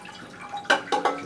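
Water poured onto a bone-dry potted plant, heard as a few close, distinct splashing drips and trickles in quick succession near the end.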